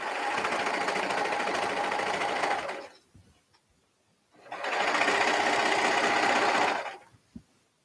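A sewing machine stitches a crotch seam in two steady, loud bursts of rapid mechanical whirring, about three seconds each, split by a short quiet pause and followed by a single sharp click.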